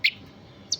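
Two short, bright chirps from tame young blackbird chicks, old enough to be past the risky stage, one at the start and one near the end with a quiet gap between, no talking.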